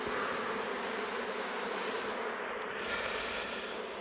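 Winter honeybees in a hive buzzing as a dense, continuous drone, close and steady throughout with no voices.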